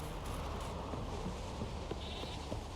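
Goats bleating in the video game The Witcher 3, a faint bleat or two set inside dense, steady ambient game noise, with no talk.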